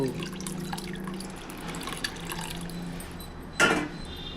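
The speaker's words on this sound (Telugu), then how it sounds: "చింతపండు పులుసుని వేసుకోండి" Tamarind extract poured into hot oil for a spicy fish curry, a steady liquid pour and drip running throughout, with a louder splash near the end.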